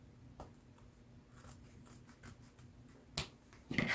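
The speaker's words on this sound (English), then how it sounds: "Where is the other piece of scissors? Here. So I cut off about this size." Scissors cutting a piece of craft material for a DIY tumbling tower blocks project, heard as a few soft, crisp snips spread across a quiet room with faint background hum, the last cuts a little louder and closer.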